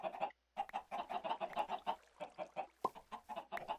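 Several chickens in a Minecraft modpack cluck in quick, busy bursts, fairly close, with one short gap of silence between bursts.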